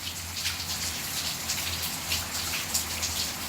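Steady outdoor rain falls throughout, a dense continuous patter of drops with scattered louder splashes and a low hum underneath, with no one talking.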